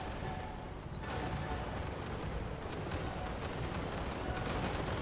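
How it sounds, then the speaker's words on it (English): Dwarf artillery firing in a video game battle, heard as a dense, continuous barrage of overlapping booms and crackling shots at steady loudness across the whole stretch, with no voices. "It's probably artillery."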